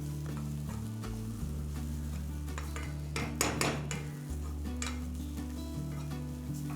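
Dry chutney ingredients for vada pav frying in a pan, a steady close sizzle with a spoon scraping and stirring through it and a brief busier burst midway, under a constant low hum.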